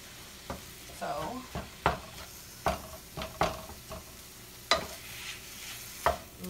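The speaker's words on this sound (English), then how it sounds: "look at that sizzle." Meat sizzles in a pan with chili seasoning for Tex-Mex enchiladas, a soft steady frying hiss broken by repeated scraping stirs of a utensil, fairly quiet and close.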